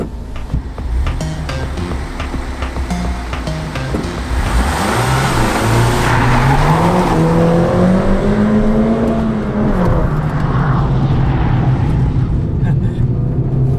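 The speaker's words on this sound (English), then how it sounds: "All right, Mini Cooper GP." A Mini Cooper GP engine revs and accelerates close by, its pitch rising and falling through gear changes over a steady driving rumble, with no voices over it.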